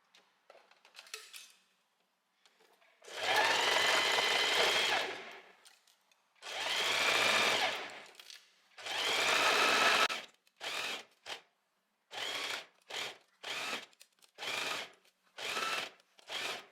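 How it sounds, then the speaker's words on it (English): A sewing machine stitches a dress seam with a 1 cm allowance, running in three long loud bursts and then a quick series of short stop-start runs, close by with no talking. "We're gonna sew from here all the way across here with the 1 centimeter seam allowance."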